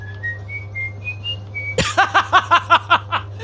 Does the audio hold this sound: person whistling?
yes